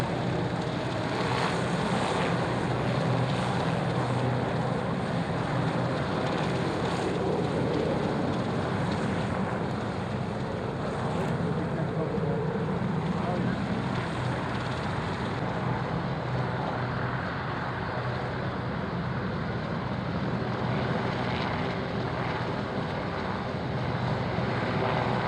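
An aircraft departs from an airshow at Waddington, a steady, broad engine roar mixed with wind noise that holds without a break for about 25 seconds. No one speaks.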